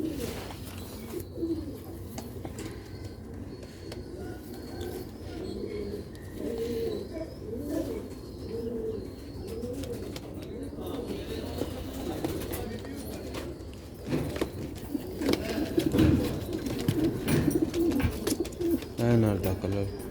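Sialkoti pigeons coo steadily in a loft, a continuous rolling, throaty cooing from several birds at close range, with people talking over it.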